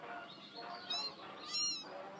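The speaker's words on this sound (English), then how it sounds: "Look at Miss Cat hunting the birds" A cat meows faintly twice in Amanda the Adventurer 2, short, high cries over a soft hissy ambient bed, quiet and fairly distant.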